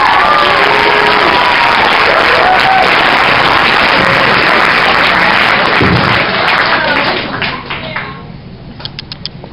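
Loud, dense applause and cheering from an audience at an indoor track team banquet, sustained for several seconds before thinning into scattered claps near the end.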